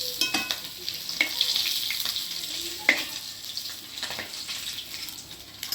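Pieces of rohu fish fry in hot oil for a poppy-seed curry, a bright crackling sizzle with sharp spattering pops and occasional clinks, close and steady.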